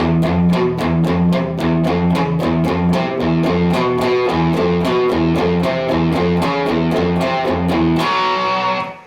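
A distorted electric guitar chugs a riff in steady, evenly repeated all-downstroke picked strokes, loud and driving, ending on a ringing chord.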